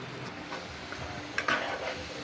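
Chicken frying and cooking down in a pot, stirred with a utensil that scrapes and clinks against the metal over a light sizzle, close and fairly quiet, no voices.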